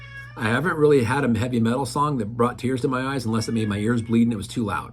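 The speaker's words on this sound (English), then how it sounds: "I told you I had a cat. You can hear her in the background." A pet cat meows repeatedly in a drawn-out, wavering caterwaul, fairly close and loud, with a person talking over it throughout.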